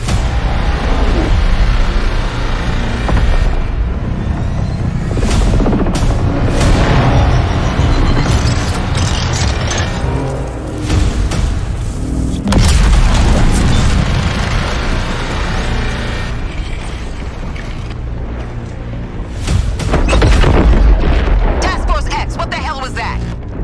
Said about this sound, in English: That artillery is gonna wreak havoc on our front line.